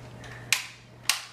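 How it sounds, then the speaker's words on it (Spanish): Two sharp gunshots from a large-calibre weapon, about half a second apart, crisp and fairly loud over a faint low hum, with no talk. "Vemos cómo le dispara con un arma de gran calibre"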